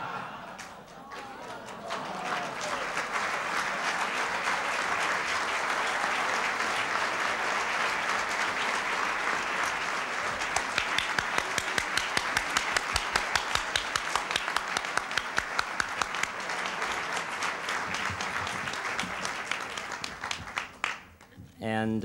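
Audience at a fundraising dinner for Eureka College giving sustained applause, a loud, dense wash of clapping that swells after a quiet start and fades at the end.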